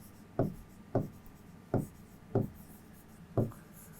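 A pen or chalk writes on a board or page during a maths class, making five short scratchy strokes at a steady rhythm, close and clear over faint background hiss.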